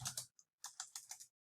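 Keystrokes on a computer keyboard: a quick burst of clicks, a single tap, then a steady run of about six evenly spaced presses, close and clear with no talk.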